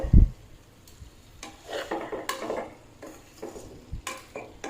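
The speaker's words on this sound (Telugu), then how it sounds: "ఆలుగడ్డ కాలీఫ్లవర్ యాడ్ చేసి ఒక కలుపు కలపడమే" Potato and cauliflower curry stirred in a pan, a spoon scraping and rubbing against the metal in a few uneven strokes with a faint sizzle beneath, fairly close, after a brief knock at the start.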